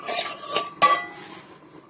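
Turmeric is stirred into hot oil in a pan, giving two quick, close scraping strokes of a spatula over a steady sizzling hiss that fades toward the end.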